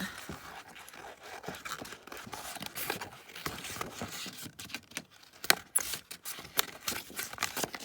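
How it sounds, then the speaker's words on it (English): Scissors cut paper flowers out of an autumn-themed junk journal kit, a close, quiet run of steady snips and paper rustles with a few sharper clicks. "let's cut these flowers out"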